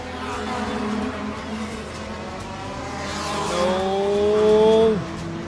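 Race cars circling a wet circuit at a Carnival of Speed event, with a steady engine drone and a rising, gliding engine note near the end as a car passes close and loud.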